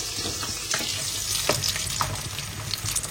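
Fish sizzles steadily in hot oil in a home kitchen, a dense, even crackle with occasional stirring clinks, close and unbroken, no voices.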